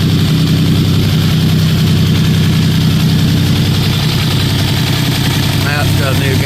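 A Geo Metro engine, newly fitted with a replacement gasket, idles loudly and close up with a continuous steady rumble, swelling slightly as it revs, while a voice speaks near the end.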